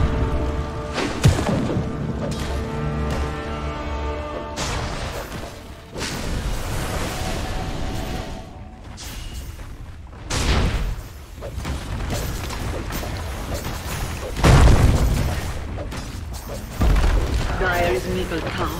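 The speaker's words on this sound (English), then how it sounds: "Dire's bottom tower is under attack." Dota 2 tower under attack then collapsing, with repeated heavy booms and impacts over dense battle noise, louder crashes near the end as the structure falls.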